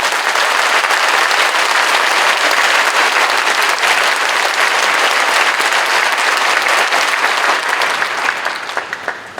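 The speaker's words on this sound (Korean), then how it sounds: "뜨거운 박수로 모시겠습니다." Loud, dense applause fills a large church hall during an anniversary commemorative service, sustained for several seconds by a big crowd before thinning out at the end.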